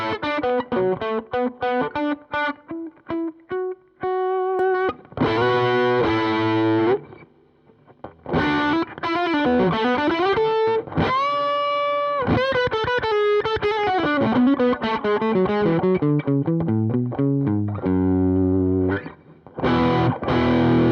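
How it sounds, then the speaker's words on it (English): Electric guitar played through a Nepomuk Big Muk overdrive pedal with its boost section engaged, loud, distorted and sustained, with chords and single-note lines, a couple of brief pauses, no voices. "If I turn it back to noon and engage the boost section, you can get a feeling of how much that actually does to your tone"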